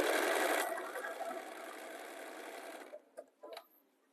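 Sewing machine stitching quilt pieces for a half-hexagon quilt, a fast steady mechanical whir for a few seconds, then stopping, followed by a couple of faint clicks and handling noises; no talk.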